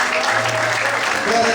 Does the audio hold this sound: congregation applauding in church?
yes